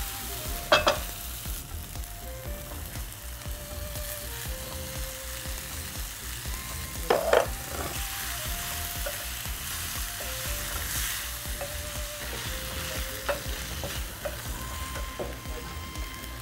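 Half-boiled kidney beans (rajma) tipped into a hot pan and stirred, giving a continuous sizzle with a couple of sharp clatters of spoon on pan, close and steady with no talking.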